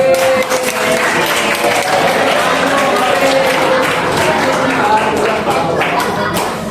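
Applause from an audience of teachers at a training session at SMA Taman Madya 1 in Jakarta, a dense, steady wash of clapping filling the room for the whole stretch, with a voice briefly audible under it.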